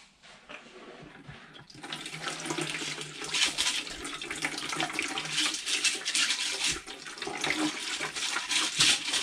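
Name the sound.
tap water pouring into rock tumbler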